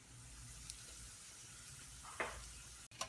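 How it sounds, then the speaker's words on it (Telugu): Hot tempering poured into a pot of Andhra-style sambar gives a brief burst of sizzle and hiss near the two-second mark over a faint kitchen background, followed by a quick clunk. "ఇప్పుడు ఈ తాలింపుని తీసుకొచ్చి ఇలా సాంబార్లో వేగానే సుయ్ అంటుంది"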